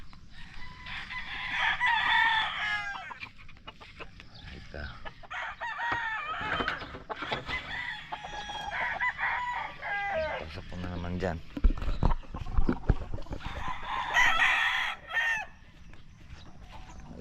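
Chickens and roosters in a rural hillside setting cluck and crow repeatedly, loud and close, with several overlapping calls. A person talks over them.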